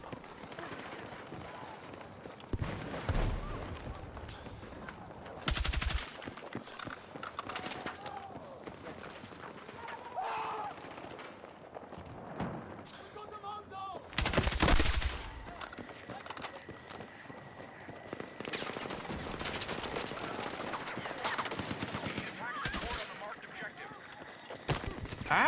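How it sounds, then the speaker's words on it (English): Bursts of gunfire aimed at the player in a video game crack out in scattered volleys, loudest around the middle, mixed with game noise and ongoing talk. "Who is shooting me over here?"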